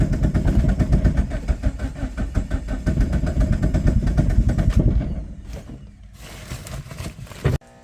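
A Suzuki car engine, running at last after many hard starting attempts with added gas, starting fluid and a jumper box, roars loudly and roughly at close range, then drops to a quieter, uneven idle before cutting off abruptly.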